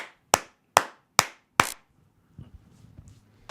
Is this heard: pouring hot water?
no